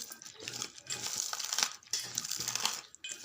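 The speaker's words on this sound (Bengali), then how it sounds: "সবগুলোকে ভালো করে মেখে নেব" Kurkure snacks tossed with puffed rice by hand, a continuous close crunching and crinkling as the crisp pieces are squeezed and mixed in rhythmic handfuls.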